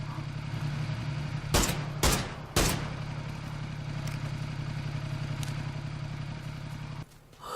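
A motorcycle in PUBG: Battlegrounds runs with a steady, low, droning engine hum throughout, interrupted early by three loud, sharp gunshot-like bangs before the engine tone carries on.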